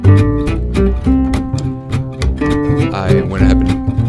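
Gypsy jazz la pompe rhythm guitar strumming steady percussive chords with an upright-style bass line underneath, a continuous bouncy accompaniment filling the whole stretch.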